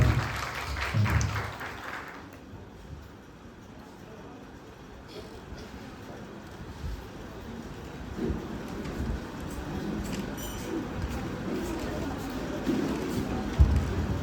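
An audience at a student Ojapali performance bursts into loud applause that fades after a couple of seconds into a low crowd murmur and scattered claps.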